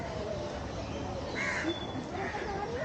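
Birds calling at a zoo, a few harsh crow-like caws rising over steady ambient background noise, moderately distant.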